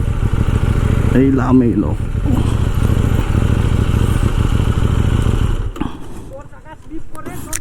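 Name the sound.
KTM Duke 790 motorcycle engine idling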